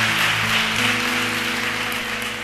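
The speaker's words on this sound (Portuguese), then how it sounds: "Pode aplaudir aí, amado" A church congregation applauds steadily during a Portuguese-language worship service. The dense, even clapping stays fairly loud throughout, with low sustained tones humming beneath it.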